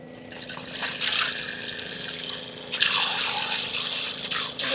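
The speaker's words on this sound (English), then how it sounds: "And then just fill up the bucket." Water pours into a bucket for a solar camp shower beside a Chevy Express hightop van, a close, continuous splashing fill that swells louder partway through. No one speaks.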